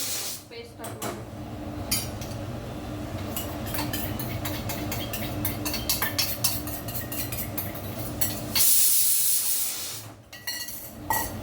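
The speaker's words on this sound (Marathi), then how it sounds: "बटर मेल्ट करून घेऊ" Butter melts in a pan under a run of close metallic clinks and scrapes, then a loud sizzling hiss flares up for about a second before the clatter resumes.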